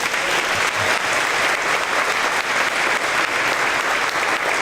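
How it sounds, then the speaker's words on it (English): A school audience applauds students at a fifth grade promotion ceremony, steady dense clapping filling the room for several seconds without a break. "if we could give these kids a round of applause"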